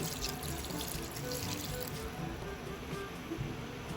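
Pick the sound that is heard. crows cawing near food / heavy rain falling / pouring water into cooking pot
pouring water into cooking pot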